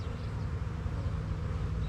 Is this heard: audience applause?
no